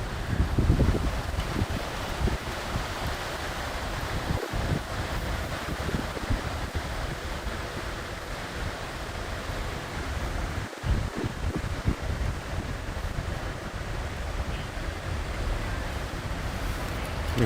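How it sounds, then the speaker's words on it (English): Strong wind buffets the microphone in a steady, loud rush with low rumbling gusts, heard alone throughout with no talk. "Listen how windy it is."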